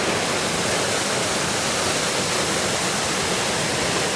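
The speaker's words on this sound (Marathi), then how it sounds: "पुन्हा एकदा पहा तसं मस्त वॉटरफॉल दिसतो हे वॉटरफॉलचं परिसर पहा" Steady, full roar of a hidden waterfall at Satkund (Channat Waterfall) in the countryside, rushing water filling the scene evenly and loudly from start to finish with no voices.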